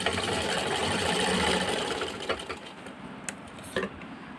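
A sewing machine stitching a handbag at home runs in a brief rapid whir, then stops, leaving a few sharp mechanical clicks and taps close by.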